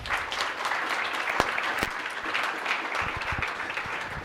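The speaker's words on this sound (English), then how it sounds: "A warm round of an applause, ladies and gentlemen." Warm applause from guests at a high tea event on youth mentorship, with steady, fairly soft clapping and a few sharper individual claps standing out near the start.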